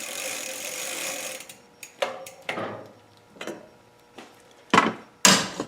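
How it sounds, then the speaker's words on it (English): A pedal wrench tightens a bicycle pedal on a Roadmaster Granite Peak, giving a handful of separate clicking, ratcheting metal turns with short pauses between them, near and moderately loud after a fading earlier noise. "And then I'll take my pedal wrench and tighten it down."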